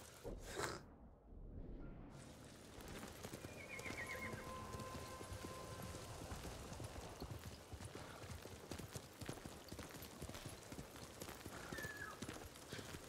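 Steady clip-clop of a horse's hooves at a quick pace in the video game Ghost of Tsushima, with occasional whinnies, over a soft rain-like background hiss.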